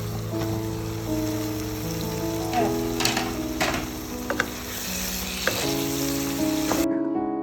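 Tomatoes and garam masala are sautéed in a pan for chicken dum biryani. A continuous sizzle is punctuated by scattered clinks and scrapes of stirring over a low steady hum, and it cuts off abruptly at the end.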